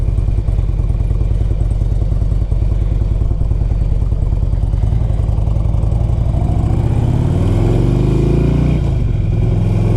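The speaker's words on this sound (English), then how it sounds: "Fires up nice and good." Engine of a 2002 Harley-Davidson Electra Glide Ultra FLHTCUI running close and loud, a steady lumpy idle, then a few revs that rise and fall toward the end, no speech over it.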